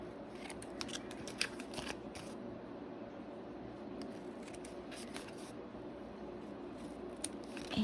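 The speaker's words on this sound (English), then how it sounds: "I'm going to take my scissors and just trim that up on those ends" Scissors snip repeatedly as paper is trimmed for a Mother's Day shutter card, a series of small, close, quiet cuts over a faint steady hum, with no talking.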